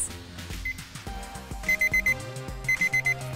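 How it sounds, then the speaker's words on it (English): A kitchen timer alarm sounds after steeping green tea, two bursts of rapid loud beeps in groups of four over a soft melody, heard clearly with no talk. "set a timer for 7 minutes"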